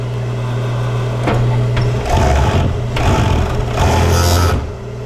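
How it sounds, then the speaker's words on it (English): A Juki serger sewing machine serges the top edge of a piece of fabric, its motor whirring loudly and steadily in fast bursts, close and with no voices. "we're going to serge the top edge so it doesn't fray"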